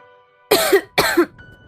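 A woman coughs in a smoke-filled room, two sharp, close coughs in quick succession with a short gap between them, then quiet.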